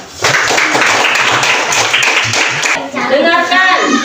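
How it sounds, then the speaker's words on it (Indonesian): Children in a fourth-grade classroom clap together for a presenting group, a dense steady burst of applause lasting about three seconds that then fades as a voice speaks. "Tepuk tangan untuk kelompok dua tim"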